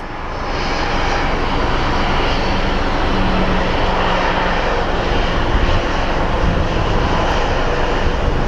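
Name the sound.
small Airbus airliner taking off at Sky Harbor airport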